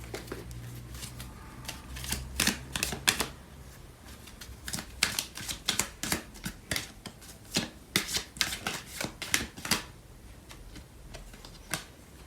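Tarot cards shuffled and drawn for a Sagittarius love reading, close riffling bursts and crisp card flicks and slaps coming in quick irregular clusters, quiet between.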